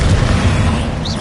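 Confringo and Bombarda spell explosions from Hogwarts Legacy on PS5 burst in a loud, dense wall of booming, rumbling blasts, close and continuous for the whole moment.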